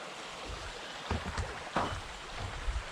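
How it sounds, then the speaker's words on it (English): A little brook flows beside a hiking trail near a small footbridge, giving a faint, steady rushing hiss with a few soft thumps that sound like footsteps. "You can probably hear the water."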